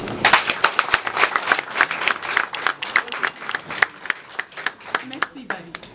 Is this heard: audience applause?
yes